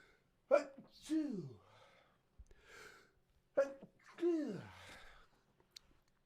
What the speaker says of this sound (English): Got to get the sneezes out